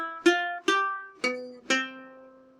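A ukulele strung with a low G plays four plucked notes one at a time, each ringing and decaying, the last two lower and fuller, in a quiet and intimate setting.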